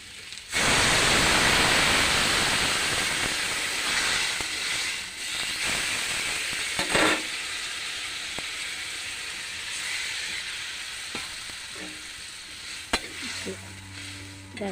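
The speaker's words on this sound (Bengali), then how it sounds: "আমি জল দিয়ে দিই।" Water poured onto a frying prawn and okra curry bursts into loud sizzling and steaming hiss, which slowly settles into softer bubbling, with a few clinks near the end.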